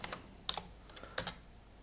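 Keystrokes on a computer keyboard while entering coordinates during a digital dungeon-mapping session: a few quick clustered clicks, then a pause, then another short burst, close and quiet with no talking.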